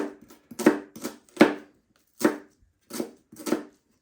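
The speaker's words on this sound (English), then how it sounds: "This is how I cut onions." Sharp knife chopping onions on a board, about six separate cuts falling in an uneven rhythm, each a short, close thud with a papery crunch, the strokes set apart by brief silences.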